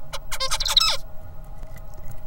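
A young tutee songbird that learned from a tutor sings a quick burst of stacked, sweeping syllables for about a second, then faint ticks and a steady low hum follow.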